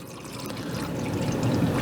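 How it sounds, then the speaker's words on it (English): Water pours steadily into an ultrasonic cleaner tank, a continuous close rushing splash that grows slightly fuller and louder toward the end. "let's go pour some water in this baby"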